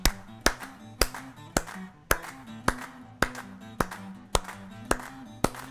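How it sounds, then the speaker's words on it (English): Recorded hand claps in a song, sharp and evenly spaced at a steady beat, about a dozen crisp claps over a quiet tonal backing. "I do all my own claps"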